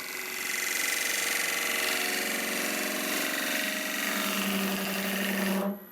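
A wood lathe turns a natural edge end grain vase, a steady high whirring hum with a tool cutting continuously, close and even, before it abruptly stops at the end.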